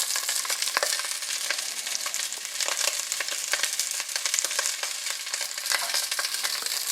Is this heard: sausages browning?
yes